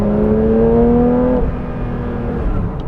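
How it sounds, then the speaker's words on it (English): Porsche 911 S/T on its stock exhaust pulls hard under acceleration, a loud, close engine note with rising harmonics for about a second and a half before easing off into a steady cruising drone. "It sounds so good for a stock exhaust."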